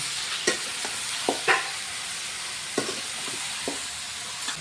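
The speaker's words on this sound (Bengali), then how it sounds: "এখন ওই চিকেনগুলোকে ভালো করে ভেজে নেওয়া হচ্ছে" Fatty chicken pieces fry in oil in a kadai at a picnic, giving a steady, dense sizzle broken by sharp, scattered scrapes and clicks of a stirring utensil.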